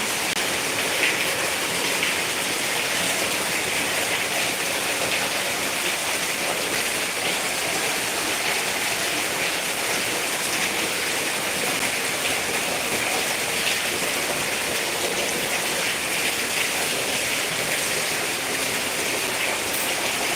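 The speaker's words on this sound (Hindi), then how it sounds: "देखिए कितना बारिश हो रहा है" Heavy rain pours down in a steady, dense hiss for the whole stretch, loud and unbroken, with no voices.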